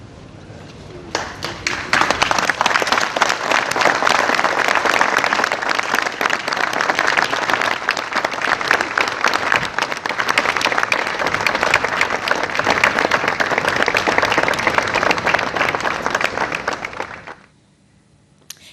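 Sustained applause from a large crowd at a funeral farewell, a dense, loud wash of clapping that builds quickly, holds for about fifteen seconds and then stops abruptly.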